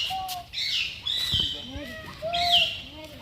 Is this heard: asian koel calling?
yes